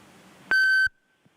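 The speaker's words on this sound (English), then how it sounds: "you will hear a recording that will tell you to begin your comments after the beep" A single sharp electronic beep, loud and alone, sounds for under half a second to prompt a caller to begin public comment at a county board of supervisors meeting, leaving a short quiet tail after it.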